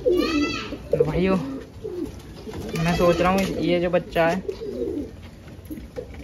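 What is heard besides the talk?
pigeons cooing while pecking grain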